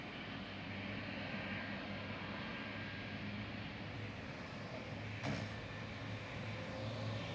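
Aircraft at Amsterdam Schiphol airport produce a steady, faint jet engine rumble heard from a distance, continuous and unbroken, with no talk over it.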